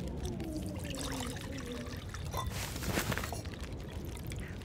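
Water is poured to make coffee in the survival video game The Long Dark. A steady trickling pour runs for several seconds and is fairly close, with a few faint clunks and footsteps mixed in.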